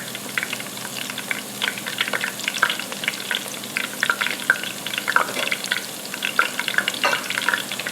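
Steady crackling sizzle of battered onion rings frying in hot oil, with dense popping bursts throughout, close and continuous.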